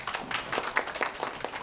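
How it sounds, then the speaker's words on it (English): A conference audience at an opening and welcome address applauds a speaker, with a brief burst of scattered hand clapping heard from a distance. "Let's give him a big round of applause."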